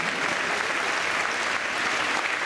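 An audience at a Paris farewell show applauds steadily and loudly, a dense wash of clapping with no pauses.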